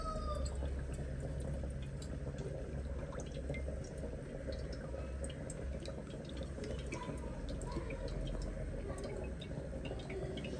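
Water drains from wet flour dough through a mesh strainer, a steady soft trickle with scattered fine drips running continuously and evenly throughout.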